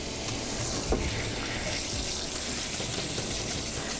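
Steady running water rinsing a dog in a bath after conditioner, a continuous broad rushing splash that stays even and close throughout with no voices.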